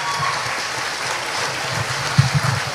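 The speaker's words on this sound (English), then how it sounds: "Let's give a big round of applause for the great leadership here at Health Science." An audience claps steadily at a 2023 Health Sciences Charter School graduation ceremony, a moderate wash of applause with a few louder claps near the end.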